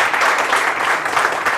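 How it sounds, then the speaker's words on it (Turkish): Dense audience applause fills a Turkish music show of classic songs, loud and continuous from start to finish as a broad wash of many hands clapping together. "Tüm alkışlar kamera, yönetmen ve sazlarım için"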